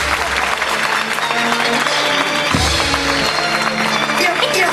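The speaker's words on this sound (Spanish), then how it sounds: "gracias por esos aplausos de verdad fuerte" Loud, sustained applause from a large crowd at a Cuban humor anniversary show in the Karl Marx theater, with a voice briefly calling out over the clapping.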